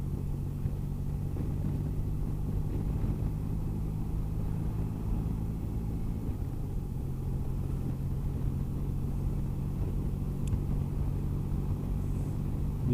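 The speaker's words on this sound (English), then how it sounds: "Well, I suppose you could call this rush hour traffic." Early-morning motorway traffic in France, heard as a steady low engine rumble and road drone from a moving vehicle, continuous and even throughout with no voices.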